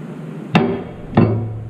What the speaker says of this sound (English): we're going to take a hammer and we're going to hit it right here.